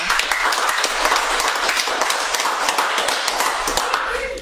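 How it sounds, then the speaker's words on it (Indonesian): An audience at a film discussion event claps in a brisk burst of applause, steady and fairly close, fading slightly at the end. "Tepuk tangan untuk kita"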